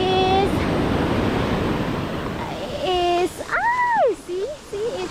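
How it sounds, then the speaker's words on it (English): Rough ocean waves wash onto Banana Beach in Phuket, Thailand, in a steady loud surf roar, with a voice speaking over it partway through. "but the waves is wild, so you have to be careful so that the wave will not drag you to there"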